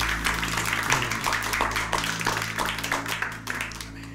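Congregation applause during a church worship service: scattered, moderately close clapping from many hands over a steady low hum, continuing without pause.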